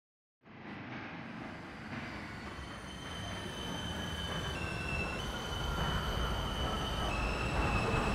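A simulated R160B subway train on the E line starts up out of silence and rolls along, its rumble swelling steadily while a high electric whine climbs in pitch.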